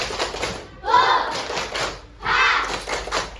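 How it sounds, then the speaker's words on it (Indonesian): Sixth-grade pupils in a classroom do the 'tepuk semangat' chant, two bursts of group clapping and chanting voices mixed with children's speech, fairly close. "Tepuk semangat Bella Citi."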